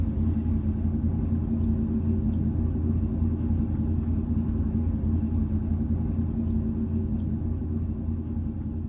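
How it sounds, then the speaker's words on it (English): A tour coach passes on a narrow road near Olden, Norway, its engine a steady low rumble held close and constant throughout, with no voices. "We saw our coach overtaking us on its way back to the pickup point for the second part of our trip"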